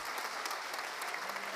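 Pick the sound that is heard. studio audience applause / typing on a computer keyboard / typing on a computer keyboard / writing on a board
studio audience applause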